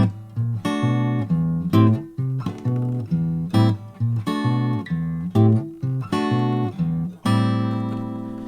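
Acoustic guitar strummed in a steady rhythm, jazz-style chords ringing over a low bass line that carries through, ending on a longer held chord.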